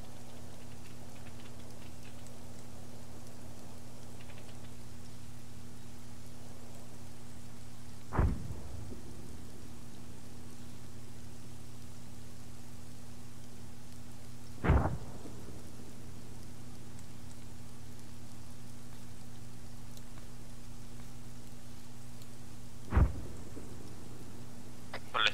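Rain and thunder in Arma 3: steady rain hiss with a low hum underneath, broken by three sharp thunder cracks spaced several seconds apart, each fading quickly.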